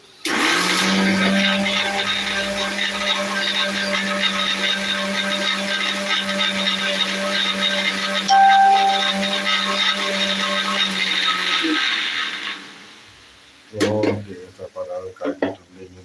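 A mixer grinder blends onion into masala paste for a chicken fry, a loud, even motor whine that runs about twelve seconds and then stops, followed by a few short knocks and voices.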